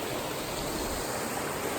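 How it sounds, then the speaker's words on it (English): A wilderness creek in Arkansas runs down through a waterfall, making a steady, full rushing hiss that fills the whole stretch without a break, with no talk over it. "beautiful creek coming down, a waterfall"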